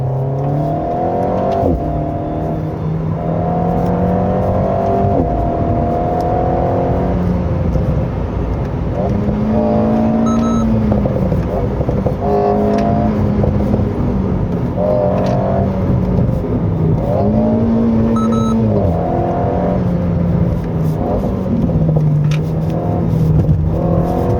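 A 2022 Renault Alpine A110 mid-engine sports car pulls hard along a winding road, its engine note climbing through the revs and dropping at shifts, loud and close, while someone talks over it.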